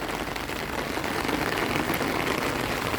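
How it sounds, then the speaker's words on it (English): Heavy rain pours onto a flooded vegetable garden, a dense, steady hiss of water striking pooled surfaces, loud and close throughout with no voices. "it's still raining but a little less"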